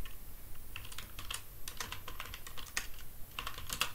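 Typing on a computer keyboard while entering an SQL query, a steady run of close, crisp key clicks with irregular rhythm and no talking.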